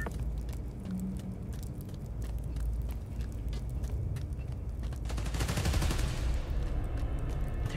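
Rapid gunfire crackles at a power station in the Spider-Man: Miles Morales video game, dense automatic bursts over a low rumble, swelling into a louder, noisier burst near the end.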